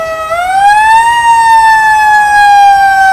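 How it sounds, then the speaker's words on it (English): Fire truck sirens wail loudly and continuously at a July 4th parade, a rising electronic tone that climbs and then holds steady, close by with no talking over it. "run the sirens"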